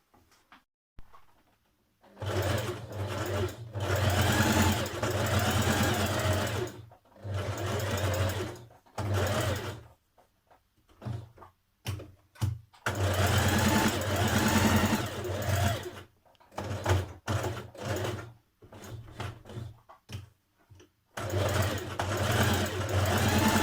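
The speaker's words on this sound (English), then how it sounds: "we're going to stitch down this side and around the stitching line" A sewing machine runs along a trouser seam in several long whirring bursts separated by short pauses and scattered clicks, close and steady, with no voices.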